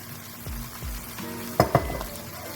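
Beef sizzles in a hot pan as Worcestershire sauce goes in and a spoon stirs it around, with a couple of sharp clinks against the pan over a constant frying hiss.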